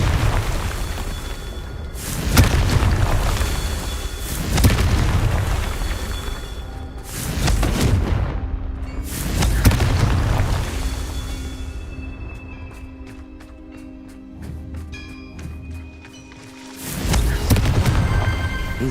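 Confringo spell blasts in the Hogwarts Legacy video game, a series of heavy booming explosions about every two and a half seconds, each with a rumbling tail, loud and close with no talk.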